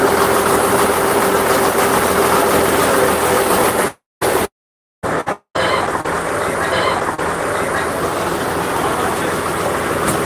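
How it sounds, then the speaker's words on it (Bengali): A boat engine on a Sundarbans river trip runs with a steady, loud droning hum, briefly cut by a few dropouts midway before continuing; faint voices sit underneath. "আর ভেতরে ইঞ্জিন চলছে"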